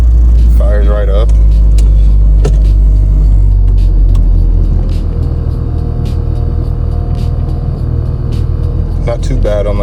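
A 1997 car engine idling: a loud, steady low rumble that holds even for the whole stretch, heard up close with people talking over it.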